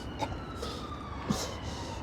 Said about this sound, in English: You mean the sirens? The fire department